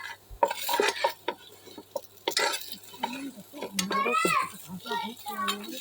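Partly boiled potatoes are stirred and fried in a pan for garlic bhorta, with intermittent utensil scrapes and clinks against the pan, mostly under a person talking.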